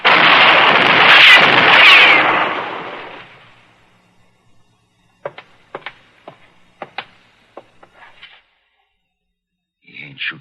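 A loud sustained roar of gunfire opens, aimed at a man hiding in a barn loft in an Old West town, then fades; a scatter of sharp, separate reports and clicks follows, with a last pair of bursts at the end.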